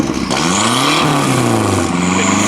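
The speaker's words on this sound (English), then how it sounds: "give her a little rev up" A 1982 Ford Capri MKIII, running on clamped-on battery leads, revs up loudly nearby, its engine pitch sweeping up and down across a couple of quick throttle blips.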